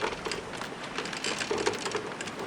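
Steady rain in the video game The Journeyman Project 3: Legacy of Time patters continuously at a moderate level, a soft broadband hiss with scattered droplet ticks and no voices.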